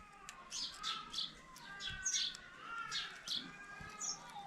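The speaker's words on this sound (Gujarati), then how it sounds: "જો ચકલીઓ કેવી ચીચી બોલે છે" Sparrows chirp near their nest in a village, bright short tweets repeating in quick irregular bursts, fairly faint and close, with no talk over them.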